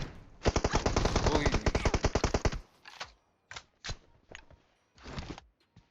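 Automatic gunfire in the mobile battle royale game PUBG Mobile: a long rapid burst of close, loud shots, then several short separated bursts and single cracks with brief gaps between them.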